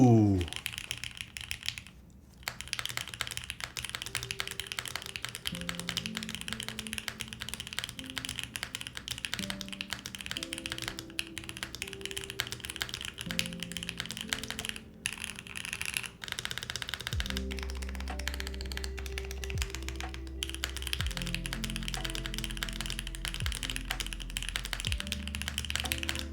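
Typing on a newly built Mode Eighty mechanical keyboard, a steady dense stream of clicky keystrokes running throughout, with background music playing underneath.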